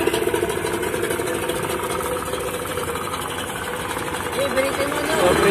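A small boat engine runs steadily nearby with a rough, rattling hum, tested in fresh water, while a person talks over it.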